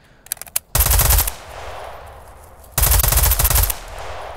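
Two loud bursts of automatic gunfire in the Escape from Tarkov shooter game, each roughly a second long and close up, following a few lighter clicks and separated by a quieter pause.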